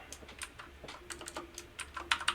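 Rapid typing on a computer keyboard, a quick irregular run of close, crisp key clicks at moderate loudness, with a few sharper taps near the end and no talking.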